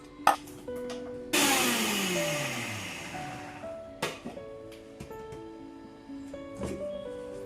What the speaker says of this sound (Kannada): ಶುಂಠಿ ಬೆಳ್ಳುಳ್ಳಿನ ನಾನು ಇದರಲ್ಲೇ ಮಿಕ್ಸಿ ಮಾಡ್ಕೋತೀನಿ